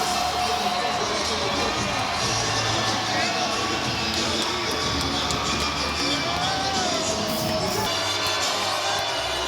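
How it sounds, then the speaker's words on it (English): A boxing arena crowd at a WBO featherweight title fight between Navarrete and Diaz roars continuously, a dense wall of cheering, shouts and whoops that stays loud throughout. "This will be a pro Diaz crowd here."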